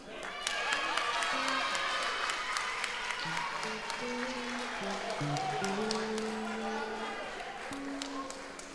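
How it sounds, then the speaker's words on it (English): Sustained applause from an audience at a school awards ceremony, steady clapping filling the room for several seconds with a low murmur of voices and a tonal hum running underneath. "A big round of applause from Mzimvubu Primary School."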